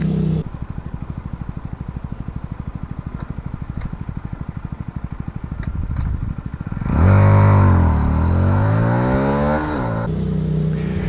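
A Malaguti Drakon 125cc motorcycle engine idles with a rapid, even putter, then revs up loudly, the pitch climbing and falling before settling back.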